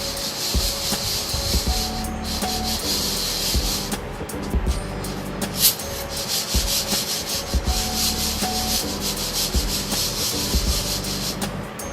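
Freshly roasted coffee beans, just done on a kamado grill, are stirred to shake off the last chaff, producing a dense, continuous dry rustling and scraping with small irregular bursts, close up and with no voices.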